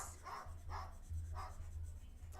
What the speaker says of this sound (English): That bird is barking.